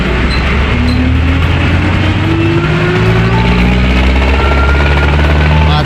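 A jeepney rolling along the boulevard in Zamboanga City, heard from on board: a loud, steady diesel engine drone with rising and falling pitch as it shifts and accelerates, plus heavy wind rush.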